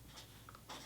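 Pen or marker writing a number by hand on a surface during a Mandarin lesson, brief faint scratchy strokes in quick succession, close and quiet with no voice.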